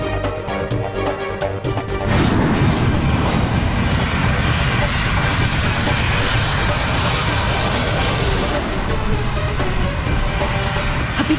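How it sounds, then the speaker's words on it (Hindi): A roaring aircraft engine from an airplane descending without its wheels down, loud and sustained, swelling sharply after two seconds and holding steady with a rough, throbbing drone. "फिर ये विमान नीचे क्यों जा रहा है? जरूर विमान का इंजन समाप्त होने वाला है।"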